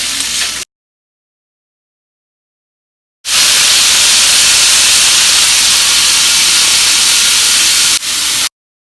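Food being stirred in a hot pan makes a loud, even hiss of sizzling that cuts to silence for a few seconds, then returns strongly before stopping abruptly.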